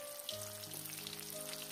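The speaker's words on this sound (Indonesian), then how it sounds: "Kita goreng bawang merah, bawang putih sama tomatnya setengah matang." Shallots, garlic and tomatoes fry in hot oil for tomato sambal, a close, continuous crackling sizzle with dense popping and a faint steady hum underneath, no voices.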